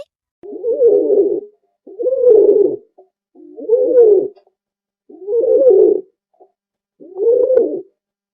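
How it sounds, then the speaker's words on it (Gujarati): A pigeon coos in five separate bursts, each a low, rolling, throaty call of about a second with short pauses between them, close and clear with nothing else audible. "આ છે કબૂતર. તેને અંગ્રેજીમાં પિજન કહે છે. કબૂતર કેવું બોલે?"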